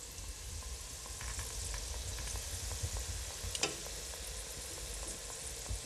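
Cream cheese, crab and jalapeño wontons fry in hot oil with a steady, hissing sizzle and scattered crackles, plus a sharper pop near the middle, close and constant with no talking.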